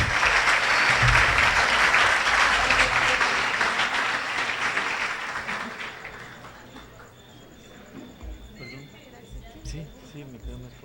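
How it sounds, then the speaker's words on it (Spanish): A conference audience applauds to welcome a speaker, a loud, dense wash of clapping that gradually tapers off over several seconds into scattered claps and faint room noise. "Recibamos con un fuerte aplauso a don Marino Prot."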